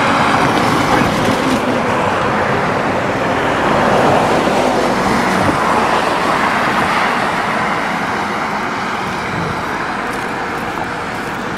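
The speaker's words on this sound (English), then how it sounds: "it's also a major road. A lot of freight, bridges," Traffic on a major road near Nibutani, Hokkaido, with freight trucks and cars passing, a loud continuous rumble and roar that stays steady throughout.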